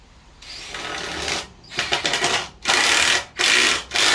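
Cordless power drill driving screws into the floor of a back-country hut, with several short loud whirring bursts that rise and cut off in quick succession, close up.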